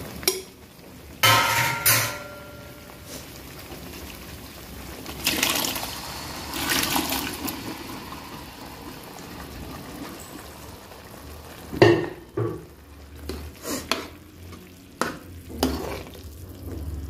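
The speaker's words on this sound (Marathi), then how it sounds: "त्यात आपण शिजवलेले शिजवलेले चणे आहेत ना, ते आपण त्यात मिक्स करून घेणार आहोत" Cooked chickpeas are mixed into a frying vegetable masala: intermittent bursts of scraping spoon and stirring over a low sizzle, with quieter gaps between strokes, all close and without speech.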